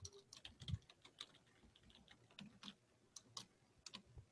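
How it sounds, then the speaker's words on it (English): Quiet typing on a computer keyboard comes as irregular bursts of sharp key clicks, faint and close, with short pauses between runs of keystrokes. "I was just typing this in, right?"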